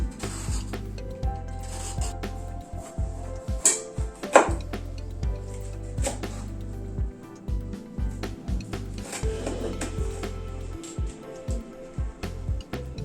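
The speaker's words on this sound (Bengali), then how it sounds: "পটলের খোসাগুলো অল্প অল্প করে ছাড়িয়ে নিচ্ছি।" Peeler scraping the skin off a pointed gourd (potol) in short, uneven strokes, close and fairly quiet scratchy rasps with a few sharper clicks, over a low steady background hum.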